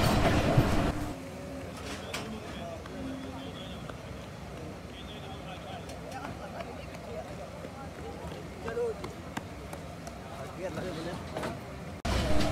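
Train pulling out of Baddomalhi station in Pakistan, a steady close rumble of the moving carriages with faint wheel clatter, heard under continuous talking.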